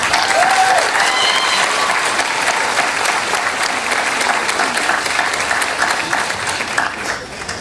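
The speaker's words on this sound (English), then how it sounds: "Graduates, let's go ahead and give them a round of applause." Loud, sustained applause from the crowd at a 2017 college graduation ceremony, a dense clapping wash that gradually tapers off toward the end, with a few faint voices mixed in.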